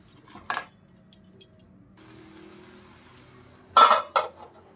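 Metal pots and utensils clank on a kitchen stove as a pot of chopped spinach is set on to boil, a few sharp knocks, then a louder cluster of clatters near the end, close up with no talk.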